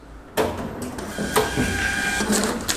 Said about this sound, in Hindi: आप इसको सेव एंड प्रिंट कर दीजिए